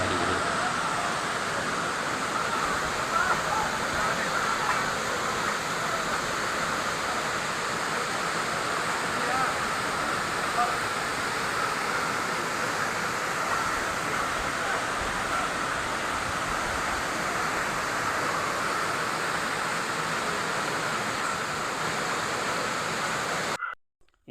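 A waterfall in Kanyakumari District roars in a steady, broad wash of noise that stays constant throughout before cutting off abruptly at the end.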